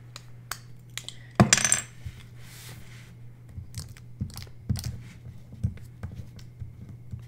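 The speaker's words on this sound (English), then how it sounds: "I'm gonna fix that with my tape roller." A tape roller pressed and rolled across a sticker puzzle page gives one loud crackling, scraping burst, followed by scattered softer taps and rubs, all close up with no talking.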